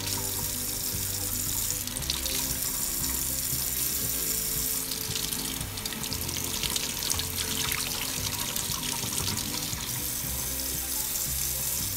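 Cold water runs from a kitchen tap into a printed picture mug, a steady continuous rush of splashing water throughout, fairly close and with no talk over it.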